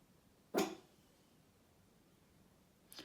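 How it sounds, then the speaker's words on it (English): A pet dog indoors gives one sharp, loud bark, then after a quiet pause a second fainter bark follows. "that's my dog"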